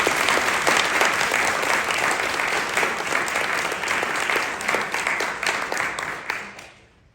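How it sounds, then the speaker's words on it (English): Loud, sustained applause from the audience at a literary competitions awards ceremony as a poetry winner comes forward, a dense roar of clapping that holds steady before tapering off at the end. "Clap it up for her as she comes."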